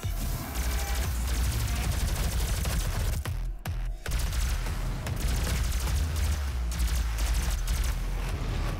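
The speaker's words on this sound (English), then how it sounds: "Alright, I need the plasma gun." Plasma gun firing in a video game, a dense rapid barrage of loud energy shots and impacts with a brief gap midway, blended with game effects and faint talk.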